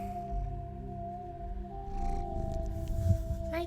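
A pet cat purrs close by in a steady low rumble that runs for nearly four seconds, set against a constant electronic hum.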